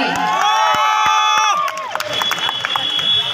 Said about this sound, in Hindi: तो एक बार ताली बजा के तो आशीर्वाद दे दीजिए भाई